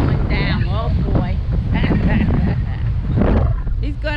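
A big boat barrels past on open water with a steady, loud roaring rush mixed with wind buffeting the microphone, while voices talk over it.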